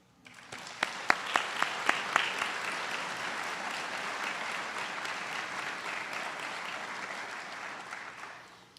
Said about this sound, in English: So I'd like to thank you and give you all a round of applause for these accomplishments.